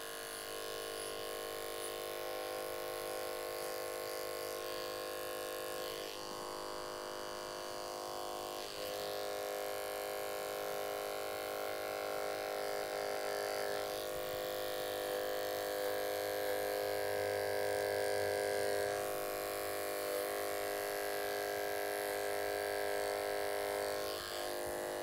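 An electric hair clipper runs continuously at close range with a steady buzzing hum while cutting hair for a low fade, its tone shifting slightly as it moves through the hair, no talking.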